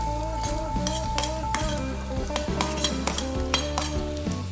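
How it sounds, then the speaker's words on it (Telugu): Carrots already half-cooked sizzle in a pan as chopped onions go in for a carrot and potato curry, with steady frying hiss under repeated close scraping stirs and light metallic clinks from the spoon against the pan. "ఇప్పుడు ఇందులో ఆనియన్స్ వేసుకోవాలి"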